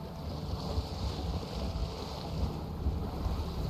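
A sailboat cuts across open water in The Witcher, with a steady wash of wind, waves and hull noise holding an even, close level throughout and no talking.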